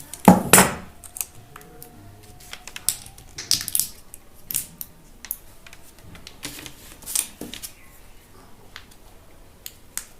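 Ceiling fan winding slot paper being cut gives scattered sharp snips and clicks, loud at first and then fainter and irregular, against a quiet background.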